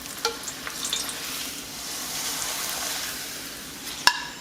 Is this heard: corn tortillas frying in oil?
yes